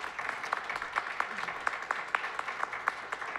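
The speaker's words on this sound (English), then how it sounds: "Give her a round of applause." Audience at an evening gathering celebrating Black women's education claps in a fairly steady patter, moderately distant and faint, with a faint murmur of voices beneath.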